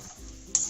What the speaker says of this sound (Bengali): 1/2 চা চামচ একটু চিনি দিয়ে নাড়িয়ে দিচ্ছি